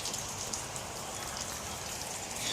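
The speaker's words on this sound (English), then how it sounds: "so it's raining" Rain falling steadily during a delayed race, a soft, continuous patter and hiss of drops on surfaces at low level, with no speech.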